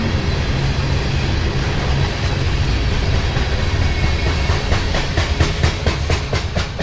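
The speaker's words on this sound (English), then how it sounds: "It wasn't that long of a train." A CSX freight train rumbles past close by in Ringgold, Georgia, with a loud, continuous roar and hiss, and a rhythmic clickety-clack of wheels over rail joints near the end.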